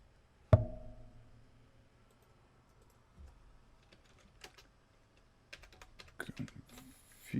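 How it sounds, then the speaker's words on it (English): Computer keyboard keys are tapped in short, scattered clusters of light clicks, fairly close but quiet. Long pauses separate the bursts, with a sharp thump near the start and faint talk in between. "And now we need to type those keys"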